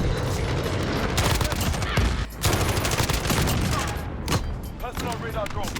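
Holger 26 machine gun bursts ring out in Call of Duty Modern Warfare, dense rapid gunfire and booms filling the stretch loudly, with a voice talking over the firing.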